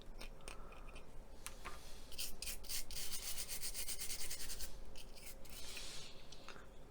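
Paint is rubbed off the boom arm of a Hasegawa Zaxis 135US model excavator to create a chipped effect, with fine close scratchy rasping strokes that come in quick repeated bursts.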